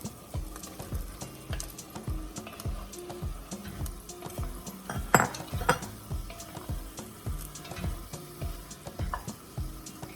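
Chicken pieces go into a pan of sizzling chicken afritada with fish sauce, followed by steady stirring and spoon scrapes against the pan over a soft, continuous fry, close and moderately loud, with no talking.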